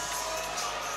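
A crowd at an MMA fight cheering and shouting, a dense wash of voices and whoops sustained across the brief moment, loud and close around the cage.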